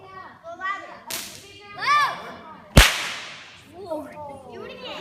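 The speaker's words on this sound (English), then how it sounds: "Can you make the loudest whip sound you've ever done?" A loud Indiana Jones–style bullwhip crack, one sharp explosive snap standing out amid kids' chatter and voices talking before and after it.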